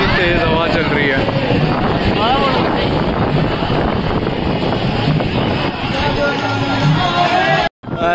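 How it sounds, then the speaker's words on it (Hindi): Strong wind blows outdoors at a riverside boat festival, a loud, steady roar buffeting the microphone almost without pause, with someone talking and a crowd murmuring underneath. "बहुत ही तेज हवा चल रही है।"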